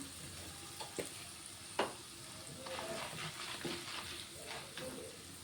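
Asafoetida dropped into hot oil for a tempering over lemon rice, giving a soft, steady sizzle with a few faint clinks of stirring, fairly quiet throughout.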